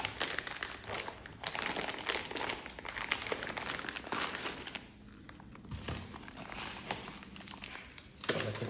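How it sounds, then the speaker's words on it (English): A shipping package from a Bambu order is torn open, giving steady, close crinkling and ripping of packaging that runs continuously with a brief lull near the middle and a sharp burst at the end. "let's rip it open."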